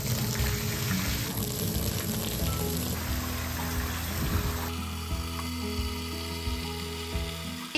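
Water pouring steadily from two outlets at a hot spring, one carrying yellowish iron-rich spring water and one cold water, a continuous close rushing flow with a low hum, loud throughout.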